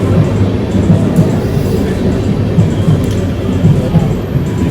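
Train rolling into a railway station, a loud, steady rumbling clatter of wagons with faint rhythmic clicks and brief high squeals over the noise.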